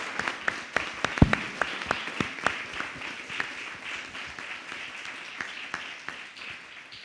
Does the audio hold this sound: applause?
yes